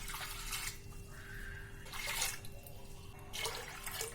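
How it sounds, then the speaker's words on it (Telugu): Water poured into a pot of tamarind juice for fish curry, quiet splashing in several short bursts separated by pauses, close by and faint. "నేను ఒక 3 గ్లాసులు వాటర్ పోసుకున్నాను"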